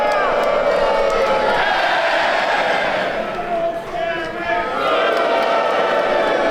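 Wrestling arena crowd cheering loudly throughout a tag match, a dense roar of voices and whoops that dips briefly before surging back, with commentary talk running over it.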